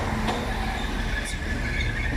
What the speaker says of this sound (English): It's the 11:58 Transport for Wales service from Holyhead to Crewe.